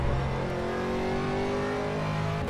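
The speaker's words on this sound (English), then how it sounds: "Alright, Dan, there's a faster car approaching." A race car engine in a sim racing game, an Aston Martin at Virginia International Raceway, roars steadily and loud at high revs without a break.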